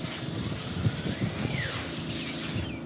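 A wooden sign being sanded by hand outdoors gives a steady, close, rough rubbing scrape with a few short back-and-forth strokes.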